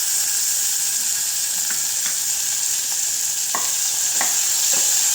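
Onions and chopped tomatoes fry in a pan with salt, a steady sizzle running throughout while a spoon stirs and scrapes the pan in several sharp, separate strokes.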